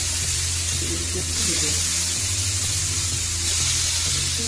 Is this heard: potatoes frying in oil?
yes